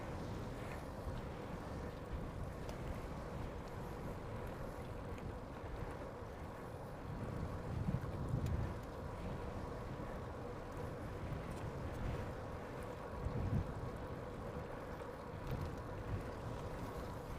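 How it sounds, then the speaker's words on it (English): Breezy wind buffeting a microphone on a bike tour in South Korea, a constant low rumble with gusty swells, no talking. "it's getting breezy."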